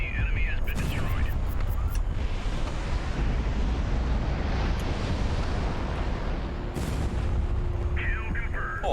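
Heavy gunfire and booming explosions from a naval battle in the video game HighFleet, a continuous loud rumbling barrage with sharp blasts near the start and end, a synthetic voice speaking briefly over it.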